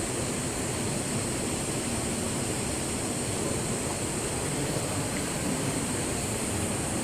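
Steady, full rush of hot spring water flowing from rock cracks into a river, constant and fairly close with no voices.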